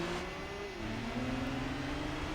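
Audi A3 engine revving in the racing game Gran Turismo 4, a steady mid-pitched drone with a gear change partway through, loud and continuous with no talk.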